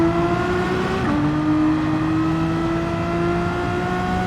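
Race car in Gran Turismo 7 running flat out: a steady, loud, buzzing engine drone with one quick gear change near the start, after which the pitch holds high and even.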